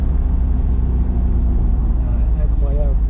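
A Mercedes SL63 AMG in sport mode gives a steady low engine drone throughout, a constant deep rumble heard as if from inside the car, with a brief voice near the end.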